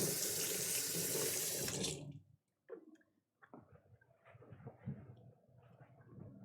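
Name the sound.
hands rinsed under a running tap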